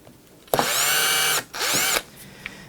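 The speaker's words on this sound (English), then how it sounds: "You don't want to drill into a truss rod. And you also don't want to drill too deep into the neck," Two bursts of a power drill boring into the neck of an electric guitar under construction, each running about a second, loud and close, with a short pause between them and no talk.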